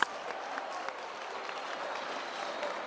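Audience at a motivational talk breaks into steady, moderately distant applause, a dense wash of clapping that carries on evenly throughout.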